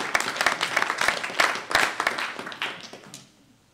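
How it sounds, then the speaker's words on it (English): Scattered applause from a conference audience during a developer-event talk, a fairly small group clapping briskly for about three seconds before fading out. "you can applaud too"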